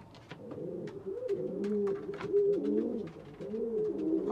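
Domestic pigeons coo continuously in soft, rolling, overlapping calls, close by and fairly quiet, with no voices over them.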